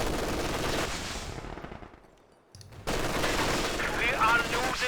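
An MG42 machine gun fires in a Company of Heroes 2 battle, loud sustained bursts that fade into a brief lull before heavy fire resumes abruptly with overlapping shots.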